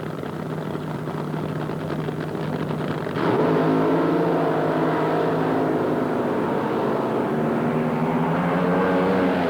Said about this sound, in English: The Kansas City Bomber Chevrolet powered a Keith Black racing engine